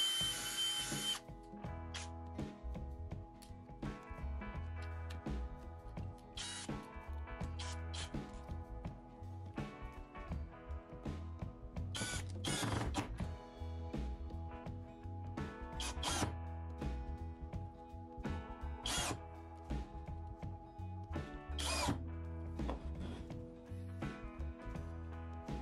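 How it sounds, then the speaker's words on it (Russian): A cordless drill whirs in repeated bursts while drilling a hole, starting and stopping with sharp mechanical spikes, loud and close with no talking. "Сверлом можно сверлить отверстие, поменять на биту и вкрутить саморезы"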